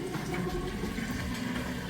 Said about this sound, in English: we are draining out water there nice and fast